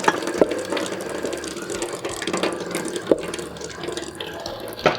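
A kitchen tap, opened to a thin stream, runs hot water into a vessel in a home kitchen. It makes a steady close trickle and splash, with a few faint clinks from handling.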